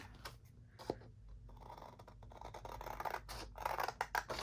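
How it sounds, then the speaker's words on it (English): Scissors snip through paper while tags and pages are prepared for a fabric-covered journal: close, crisp cuts in quick succession mixed with paper rustling, and no talking. "Gotta get out the scissors."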